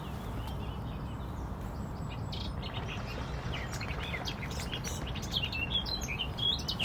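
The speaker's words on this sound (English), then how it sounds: "So no doubt there'll be birds everywhere." Birds chirp and call steadily at a lakeside carp fishery in spring, Pride of Derby Redhouse Lake, over constant outdoor wind and ambient hiss, with no voices.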